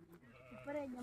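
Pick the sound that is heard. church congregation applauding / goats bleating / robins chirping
goats bleating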